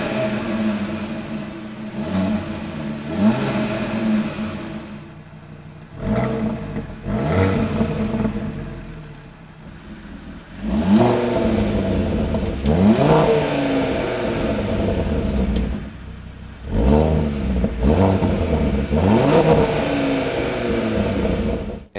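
An Audi RS Q3 engine revs repeatedly through its performance exhaust, each burst rising sharply then falling back, deep and throaty, loud and close with brief idle pauses between.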